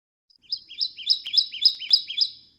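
A yellow bird's song played back from a recording: a short, clear run of about eight rising-falling chirped notes in steady rhythm, bright and close, with nothing else around it.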